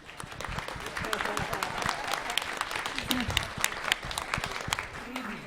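An audience at a conference opening panel applauds, sustained clapping from a crowd at moderate distance, with voices mixed in.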